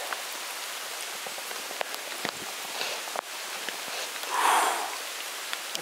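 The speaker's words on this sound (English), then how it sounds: "in the pouring down rain." Steady pouring rain in a forest near an ancient cedar tree on Yakushima, dense drops hissing on leaves and surfaces close by, with a brief heavier spatter near the end and no speech.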